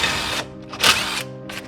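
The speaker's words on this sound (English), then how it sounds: "I'm gonna use a step drill bit." Step drill bit boring through metal during a VK56 engine swap on a G35 coupe, a short whining grind with uneven bursts of cutting noise close by over about two seconds.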